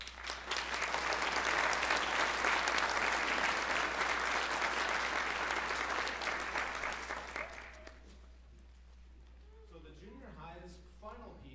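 A crowd at a school winter band concert applauds steadily for several seconds, then the clapping fades out and a voice begins speaking.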